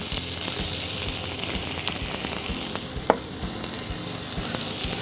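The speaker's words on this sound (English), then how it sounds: "So in go the onions" Onions dropped into hot olive oil in a cast iron pan, a dense close sizzle that crackles steadily with a few faint pops and one sharp knock partway through, no voices.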